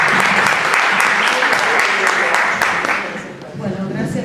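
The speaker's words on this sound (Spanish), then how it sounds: "¡Aplausos!" A seated audience at an academic university panel applauds in a dense, loud wash of clapping that fades slightly toward the end, then picks up again briefly.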